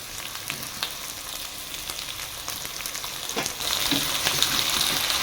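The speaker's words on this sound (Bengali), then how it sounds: "এবার আমি এর মধ্যে যে টমেটোটা কুচিয়ে রেখেছিলাম সেই টমেটো দিয়ে দেব।" Chopped tomatoes go into a pan of frying silver carp fish curry with potatoes, a close crackling sizzle with scattered stirring clatter that grows louder and busier toward the end.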